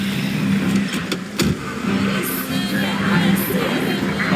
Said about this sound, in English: We're getting in the truck and getting the hell out of Dodge.